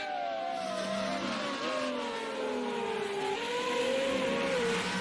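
An FR35 race car at Long Beach accelerates hard on throttle, its engine note climbing and dipping through gear changes in a loud, continuous whine, with no talk over it.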